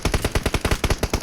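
Rapid automatic gunfire in PUBG Mobile rattles out in a fast, even burst of about a dozen close, loud shots with no voices over it.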